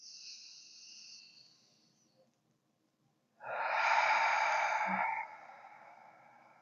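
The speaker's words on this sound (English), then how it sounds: "So you take a breath in through the nose." A slow, steady breath drawn in through the nose during a seated breathing practice, a close, airy rush lasting under two seconds after a faint earlier exhale, with no talking.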